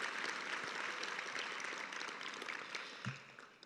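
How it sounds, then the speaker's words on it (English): A round of applause from an audience at a summit, steady distant clapping of a crowd at moderate volume, tapering off near the end. "So join me now, if you don't mind, in a round of applause for these trailblazers."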